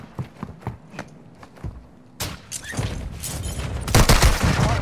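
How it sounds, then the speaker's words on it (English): Enemy gunfire rattles in a combat video game, starting as scattered single shots, then swelling into dense, loud bursts of rapid fire and impacts that grow heavier toward the end. "Taking enemy fire."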